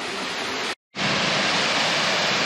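Munising Falls in Michigan, a waterfall pouring water down, gives a loud, steady broadband rush. It cuts out briefly for a split second, then returns just as strong and continuous.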